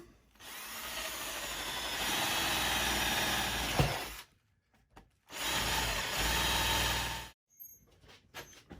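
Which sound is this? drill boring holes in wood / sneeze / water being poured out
drill boring holes in wood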